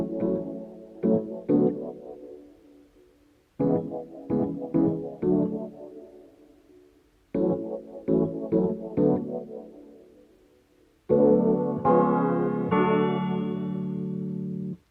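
Three layered synth melodies with delay in a UK garage style: bursts of short plucked notes in repeating phrases with gaps between, closing on a thick sustained chord.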